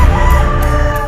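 Chickens and a rooster at a rural house in Ilocos Sur cluck and crow loudly and close by, a continuous dense clamour of fowl over about a second.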